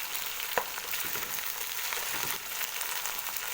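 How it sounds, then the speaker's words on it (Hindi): Chopped tomatoes frying with ginger garlic paste in a pan for a methi keema, a steady close sizzle with a brief stir clack early on, no talking. "तो अभी इसको भी ज़रा थोड़ा सा फ्राई करेंगे, इसको भी सॉफ्ट होने तक इसको ज़रा कुक करेंगे।"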